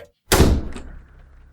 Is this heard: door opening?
yes